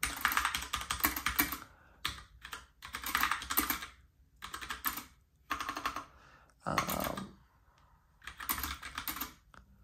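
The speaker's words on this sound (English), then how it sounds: "the keys are very clicky" Rapid bursts of loud clicky mechanical keyboard typing on an Astrohaus Freewrite, close up, coming in several runs separated by brief pauses.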